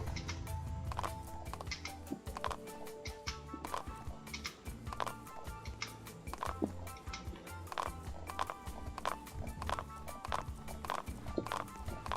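Horse hooves clip-clop in a steady walking rhythm through a video game, close and moderately loud, with faint game background sounds beneath.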